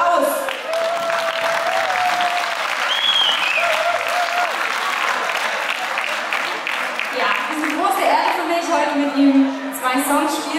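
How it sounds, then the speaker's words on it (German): Audience applause fills a live cover-music stage as a guitarist named Erik is called up, steady dense clapping from a close crowd for the full stretch, with a few voices and cheers rising near the end. "Applaus!"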